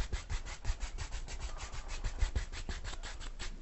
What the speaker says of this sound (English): Just whack the brush on the paper towel.